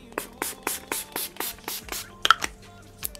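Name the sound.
setting spray being sprayed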